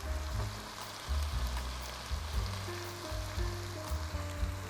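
Capcay seafood frying in oil in a wok, giving a steady close sizzle with a low bubbling hiss under intermittent clanks from cookware.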